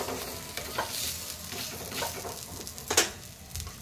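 Aloo paratha cooking in ghee on a hot pan, giving a soft steady sizzle with a few scraping stirs and one sharper clatter near the end, with no talk.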